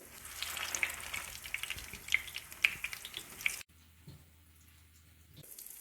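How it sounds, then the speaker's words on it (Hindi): Potato kebabs fry in a pan over a slow flame, giving a steady close sizzle with crackling pops that drops to a faint simmer toward the end. "एक एक करके कबाब फ्राई करेंगे।"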